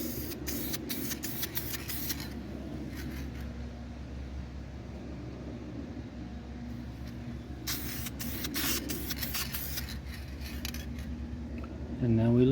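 Clear coat sprayed onto a chipped BMW X3 wheel rim outdoors in warm sun, heard as several short hissing aerosol bursts near the start and again in the middle, over a steady low background rumble.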